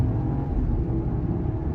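A 2023 Jeep Wagoneer L's engine pulls hard into a big corner, a steady, loud low rumble with a whirring undertone that holds evenly throughout, with no talking.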